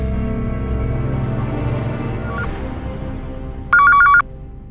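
A telephone rings in one short, sharp electronic trill after a stretch of low, steady background hum.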